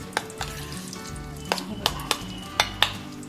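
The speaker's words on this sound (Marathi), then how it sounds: "आणि मस्त अशी ही फोडणी आपण याच्यावर घालून घेणार आहोत" Mustard-seed tempering (phodni) crackles and sizzles in a small pan for curd rice, sharp pops and spoon clinks scattered over steady frying, close by, with background music and no talking.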